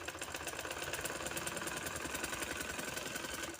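A sewing machine stitching trouser fabric, a steady, fast mechanical whirring with rapid needle ticks running continuously and close, with no talk.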